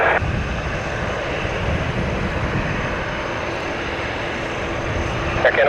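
A Royal Canadian Air Force aircraft departs Toronto Pearson, its engines roaring in a loud, steady, broadband rush that holds throughout with no talk.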